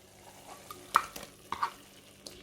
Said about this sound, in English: and then I'm going to add in my lamb